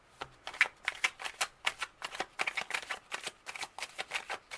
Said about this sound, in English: I'm going to pull 5 tarot cards.